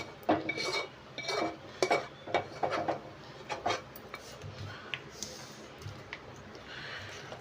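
Peanut laddu mixture scraped and tipped from a pan onto a ghee-greased plate, giving a run of close metallic clinks and scrapes in uneven bursts that thin out toward the end.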